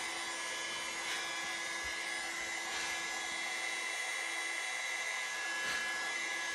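A hair dryer runs steadily nearby, a constant whirring whine with an airy hiss that holds level the whole time.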